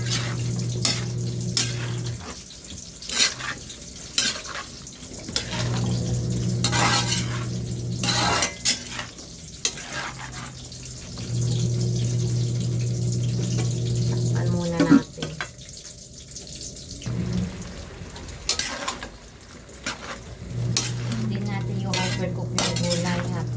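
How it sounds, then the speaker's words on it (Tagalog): Chopsuey vegetables of chayote, beans, carrot, cauliflower and young corn being stirred and mixed in a pan, giving clinking utensil scrapes and soft sizzling. A cook talks throughout, with a steady hum underneath. "meron tayong sayote, beans, carrot, cauliflower, young corn. Mix all together."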